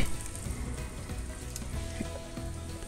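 Readymade paratha frying in hot oil gives a dense, continuous crackling sizzle, close and even in level throughout, with no voices.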